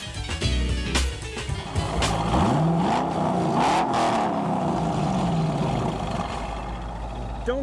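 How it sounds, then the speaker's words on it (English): A carbon fiber-bodied Dodge Viper GTS race car with a 700-horsepower 8-liter V10 revving, its pitch sweeping up and down in loud, close bursts with some overlapping talk. "it's 700 horsepower from the 8-liter V10 engine in this carbon fiber-bodied Viper GTS race car"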